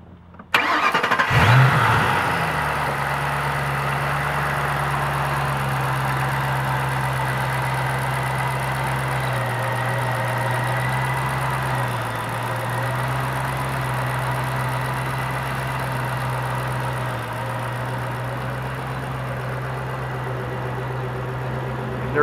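A 2007 Shelby Mustang GT500 with about 1,000 miles cranks and fires up close by, then settles into a steady, loud, rumbling idle that holds for about twenty seconds with no talking.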